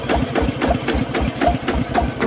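A walk-behind tractor's small engine runs steadily up close, with a rapid rhythmic knocking and rattling from a broken pulley bearing throughout.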